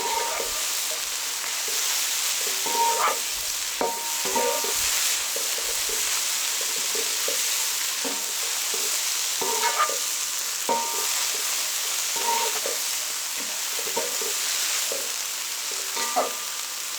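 Julienne carrots and sweet peppers stir-fry on high heat in a pan, a continuous loud sizzle broken by repeated clinks and scrapes of a utensil tossing the vegetables.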